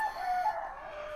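A rooster crows once, close and fairly loud, a short strained call lasting about a second with no talk over it.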